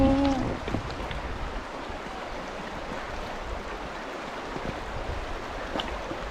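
A mountain stream in Kamikochi, Japan, in autumn flows with a steady, broadband rush of water, close and continuous, with a faint brief tone at the very start and no talking.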